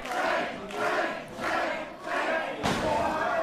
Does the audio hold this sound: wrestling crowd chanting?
yes